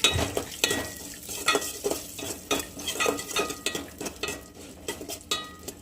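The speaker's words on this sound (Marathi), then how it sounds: "1 सेकंद अगोदर बदाम परतून घेऊयात, नंतर काजू टाकूयात आपण त्याच्यात" Almonds being roasted in a pan, with cashews to go in next, over a low flame, sounding as a soft steady sizzle under repeated scraping and clinking stir strokes that come in an uneven rhythm, close and fairly quiet, with no voices.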